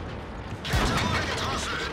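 A Hetzer tank destroyer fires its cannon in a tank video game, one sharp booming shot after a mechanical reload clatter, followed by a rumbling tail of game noise.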